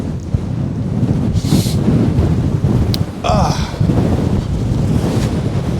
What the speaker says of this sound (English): that wind is bitterly cold